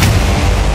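A cluster bomb blast in southern Israel comes through as one loud, close, roaring boom that fills the short moment, with no voices over it.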